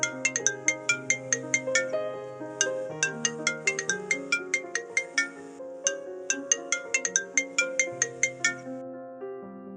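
A mobile phone rings with a bright, bouncy melodic ringtone, rapid plucked notes over a soft chordal backing, cycling clearly and loudly for the whole stretch without any talking.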